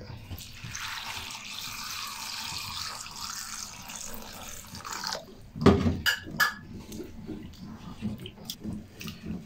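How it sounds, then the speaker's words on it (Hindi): Water poured into a bowl of washed potatoes being rinsed for French fries: a soft continuous running-water wash, then louder splashing and sloshing bursts near the end, close by. "इसमें पानी शामिल करेंगे"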